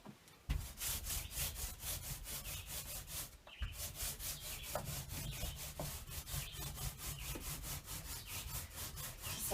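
A paint roller spreads whitewash over outhouse plywood in steady, rhythmic strokes. Each pass gives a close, wet rubbing and rasping sound, repeated evenly throughout with a brief pause near the start.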